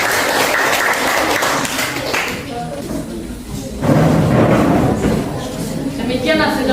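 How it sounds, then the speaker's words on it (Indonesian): Students in a classroom applaud a presenting group in a burst of close clapping that fades, then picks up again, with voices talking over and between the claps. "tepuk tangan buat kelompok 1"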